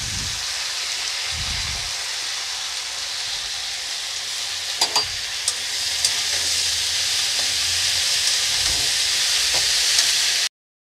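Bitter gima greens dropped into a pan of frying pumpkin, a loud, steady close-up sizzle that swells a little after a few scrapes and clinks of stirring, with no voices.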